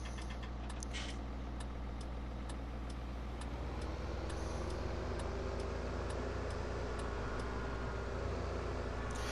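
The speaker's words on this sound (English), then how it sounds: "Always when I get here, there is a car coming." Engine drone in the Farming Simulator 17 video game, a steady low vehicle hum that grows slightly louder partway through as a car comes near a tractor in a small-town setting, with faint rhythmic ticks above.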